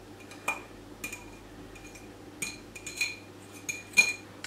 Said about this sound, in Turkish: Süzme yoğurduma peynirimi ilave ediyorum.